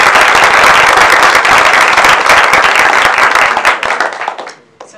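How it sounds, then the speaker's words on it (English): Loud audience applause at a department address, a dense burst of many hands clapping close by that thins out and trails off near the end. "But let's give everyone a round of applause."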